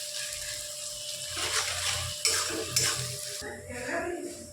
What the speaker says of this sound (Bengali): এবার পেঁয়াজটা আমরা হালকা লাল করে ভেজে নেব।